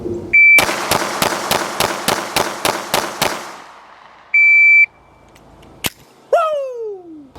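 A shot timer beeps, then a red dot sight handgun fires about ten evenly spaced, sharp shots in under four seconds. More timer beeps and a ringing tone follow the string.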